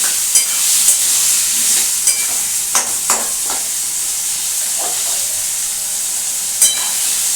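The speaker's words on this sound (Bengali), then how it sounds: "এটা একটু ভালো করে কষে নিচ্ছি।" Potatoes and peas being sautéed with a spice paste in a pan for chhanar dalna, a continuous hissing sizzle with intermittent clinks and scrapes of a spatula stirring, close and prominent.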